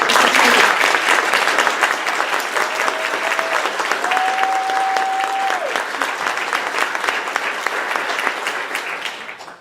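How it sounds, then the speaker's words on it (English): An audience at a county meeting on an immigrant-welcoming resolution claps steadily and warmly throughout, with a few voices faintly heard under the applause as it fades out at the end. "I don't think you're supposed to clap."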